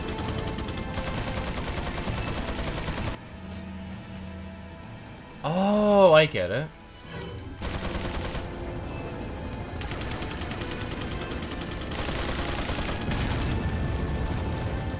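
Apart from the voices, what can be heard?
gunfire in the video game Resident Evil 4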